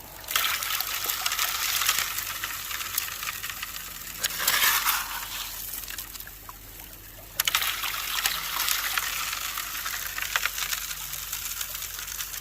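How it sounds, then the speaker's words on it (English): Water runs steadily through a gold prospecting sluice box, a continuous broadband rush with a slight dip partway through, close and fairly loud with no talking. "Got a good flow on the backside here. It's going out pretty far, nice and clear."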